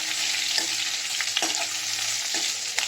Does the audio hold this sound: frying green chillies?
yes